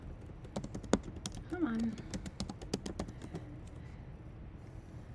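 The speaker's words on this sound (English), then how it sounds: "Oh, I didn't finish typing the word desk." Keys tapped on a computer keyboard in quick irregular bursts, crisp and close, with short pauses between clusters while a voice talks briefly over them.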